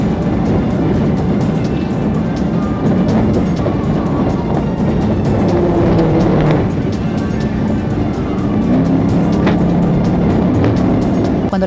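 A Ford Ranger races and weaves through traffic during a police chase, giving a loud, steady roar of engine and road noise from start to finish, with other vehicles rushing past.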